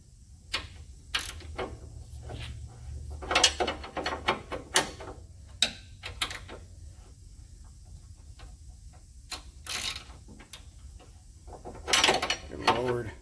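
A 30 mm ratchet wrench worked on a Ford Transit front suspension, giving irregular bursts of sharp metallic clicking and ratcheting under quiet workshop ambience, with faint low hum between strokes.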